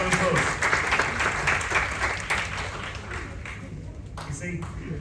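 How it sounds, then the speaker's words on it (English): A seminar audience gives a round of applause, steady crowd clapping that fades gradually over several seconds while voices talk over it. "Congratulations, big round of applause."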